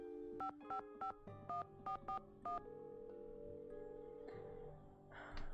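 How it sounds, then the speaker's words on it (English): Phone dialing inside a Nancy Drew video game: a quick run of seven distinct keypad tones in an even rhythm, clear and moderately quiet, followed by a soft lingering tone with faint noise at the end. "Should I call Franklin Rose?"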